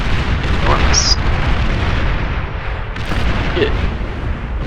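A warship in the strategy game Beyond All Reason fires all its weapons nonstop, making a loud, dense, continuous barrage of rumbling booms and blasts with a few sharper pops over the roar.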